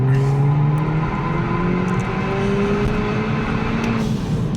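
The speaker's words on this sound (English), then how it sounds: "let's do a small pull in second gear" A BMW 1 Series F20 114i with a stage 3 tune pulls hard in second gear, its engine note climbing steadily and loud throughout with a rising drone.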